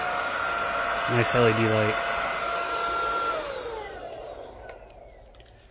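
A Bissell Iconpet Pro cordless vacuum cleaner runs with a loud, steady motor whine, someone talks briefly over it, and the hum then winds down and fades out toward the end.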